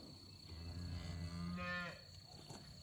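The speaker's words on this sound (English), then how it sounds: "Yeah, here are the calves." Cattle with young calves on a farm on a calm morning, a single drawn-out moo rising and falling, moderately near, over a steady low hum with no talk.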